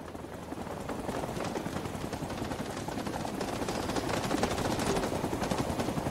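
Sustained automatic gunfire from Rising Storm 2: Vietnam, dense overlapping bursts at steady loudness for the whole stretch, with a faint rotor-like drone mixed in beneath the shooting.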